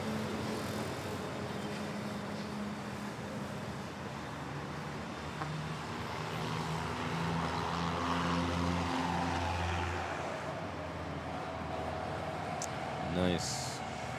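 An Airbus A321 airliner bound for Fukuoka at Manila airport gives a steady engine drone that builds and fades through the scene, heard at a distance beneath occasional voices and ambient noise.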